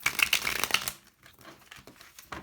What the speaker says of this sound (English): One last shuffle for my dear pile 1